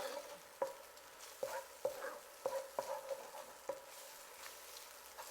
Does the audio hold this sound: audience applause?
no